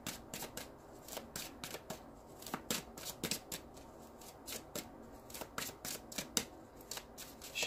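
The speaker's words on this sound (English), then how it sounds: "Maybe I'll side shuffle." Side shuffling of a tarot deck, with quick rhythmic card slaps and riffles repeating steadily throughout, close but fairly quiet, with no voice.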